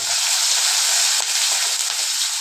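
Garlic and green chillies fry in hot oil in a pan, giving a loud, continuous close-up sizzle with no talking.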